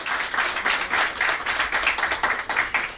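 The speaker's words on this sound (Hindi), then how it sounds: "उनका भी हम तालियां बजाकर मंच पर स्वागत करते हैं" An audience claps to welcome a guest onto the stage at a Shivratri celebration in Khanpur, Delhi, giving steady, fairly close applause with distinct bursts of hand claps throughout and no talking.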